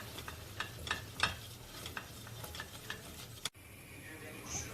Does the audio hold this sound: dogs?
no